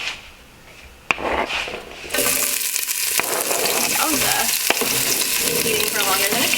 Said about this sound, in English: We're not trying to caramelize these, we are just deep frying them apparently.